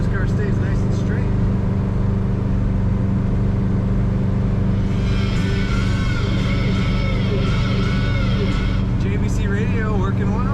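A 1970 Chevrolet Nova two-door sedan accelerates hard, its engine roar rising and steady throughout, with a voice talking over the sound from inside the car.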